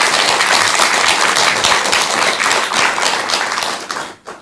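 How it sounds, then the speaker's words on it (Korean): An audience breaks into loud, sustained applause at a Buddhist talk event, dense clapping that holds steady for about four seconds before tapering off. "뜨거운 박수 한번 부탁드리겠습니다"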